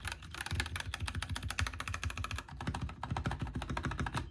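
Fast, steady keystrokes rattle on a Kemove SnowFox 61 mechanical keyboard with Gateron red and green switches and added foam, a close, continuous clicky clatter with no speech.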